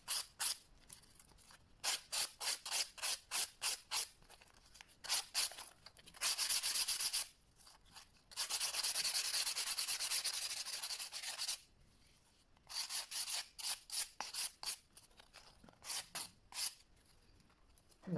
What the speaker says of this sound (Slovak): Keď si beriem nový pilník, je veľmi dôležité vedieť, že má extra ostré hrany a treba ho zmatniť.